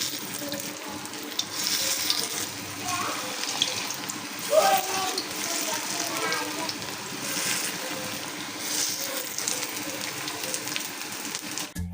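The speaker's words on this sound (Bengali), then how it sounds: "শাকের বড়াগুলো ভেজে নেব।" Leafy greens fritters mixed with chopped onion and garlic frying in oil, a steady soft sizzle running throughout at moderate level, with faint clinks and water-like splashes; a voice talks lightly in the background.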